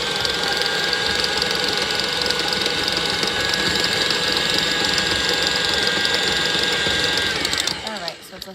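An electric mixer creaming butter and sugar for key lime cookie dough, a loud steady motor whir running continuously before cutting down near the end.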